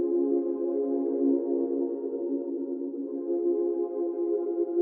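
Sustained synth pad from an Electrics preset in an ambient beat, a steady, even drone with rich stacked harmonics, holding at a constant level throughout with no voices.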